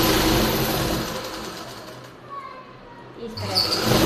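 A sewing machine stitches a trouser waistband, its motor running in a steady, fast whir that eases off briefly midway and then picks up again, close and fairly loud.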